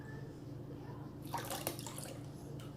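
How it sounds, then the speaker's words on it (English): Lye water strained and poured into cold process soap batter, a short trickling splash of liquid that starts abruptly, runs briefly and fades to a faint drip, quiet over a low hum. "I'm going to add my lye water. I'm going to strain it"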